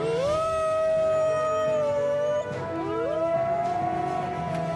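Cartoon wolf howling a challenge call from below near a waterfall: two long, rising, sustained howls, the second sliding up after a brief break, heard clearly with no speech.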